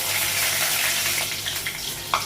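Dried red chillies sizzling in hot oil while Bengali goat-meat curry is being prepared: a steady, loud, hissing fry that continues throughout with small crackles, and no talking.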